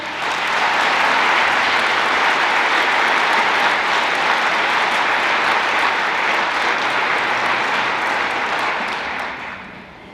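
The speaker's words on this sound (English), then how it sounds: "let's give everyone a round of applause" Loud, sustained audience applause at a school district foundation breakfast, a dense wall of clapping from a large crowd that holds steady for about nine seconds before tapering off.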